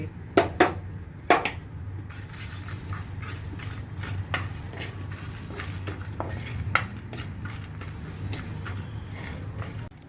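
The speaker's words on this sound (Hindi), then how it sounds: "एबे मु जीरा गोलमरीच सुखिला लंका को भाजिकी गोटे गुंडा मसला प्रस्तुत करी।" Cumin, peppercorns and dried red chillies dry-roasting in a pan, with a few sharp clinks of a spoon early on, then continuous scraping and stirring with faint sizzle throughout.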